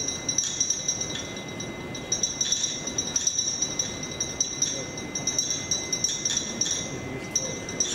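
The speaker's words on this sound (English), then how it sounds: "we're going to do a bit of stirring as well" Liquid is stirred in a glass container heated on a hot plate during a physics lecture demonstration, with faint repeated clinks of the stirrer against the glass beneath a continuous background hum.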